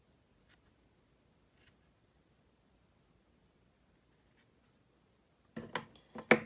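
Scissors cut a small piece for a mini sheep craft: a few faint, isolated snips at first, then a louder cluster of close crisp cuts at the end.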